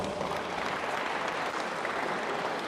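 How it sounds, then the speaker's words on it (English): Dense, steady crowd applause rolls through an arena at a Kreyol basketball championship night, a continuous wash of clapping with no voices on top. "a round of applause to them also"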